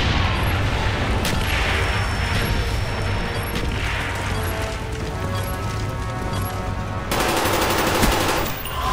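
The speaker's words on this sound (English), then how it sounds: "Mortar coordinates received. Firing for effect." A mortar strike rains down in Call of Duty Black Ops on the Hotel map, a loud dense barrage of rapid blasts and gunfire rolling on continuously with crashing impacts.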